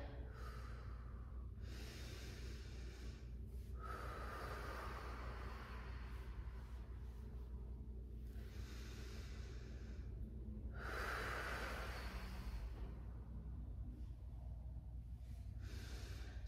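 During a lower back pain exercise in a class, slow, steady breaths exhale audibly in repeated long, soft whooshes, close and quiet with pauses between each breath.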